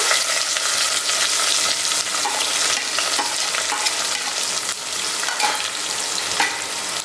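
Chopped onion, cumin and red chillies sizzle and fry steadily in a pan for moong masala rice, a dense, close crackling hiss with occasional stirring scrapes throughout and no talk.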